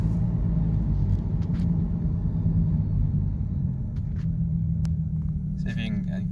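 A 2014 Ford Mustang with its 3.7-litre V6 accelerates lightly, a steady low rumble that holds even and close throughout, with a voice speaking briefly over it toward the end.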